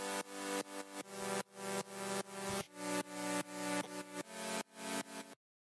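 Future bass synth chords played alone with the thirds removed, a run of bright, full stabs in uneven rhythmic bursts, each swelling in volume then cutting off, ending abruptly.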